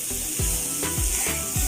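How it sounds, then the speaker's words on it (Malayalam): Green chillies and garlic sizzle in a hot pan as a spoon stirs them in regular scraping strokes, about two per second, over a constant hiss of frying. "പച്ചമുളകും വെളുത്തുള്ളിയും, ഒന്നൊന്ന് പച്ചമണം മാറട്ടെ, അതുവരെ ഇളക്കാം."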